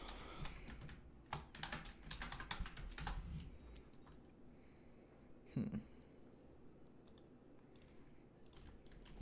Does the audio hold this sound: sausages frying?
no